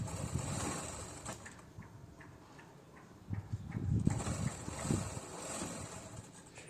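A sewing machine stitches a blouse yoke panel, a low mechanical whirr with a rapid ticking rhythm, faint at first, then a louder burst of running stitches midway before easing off again.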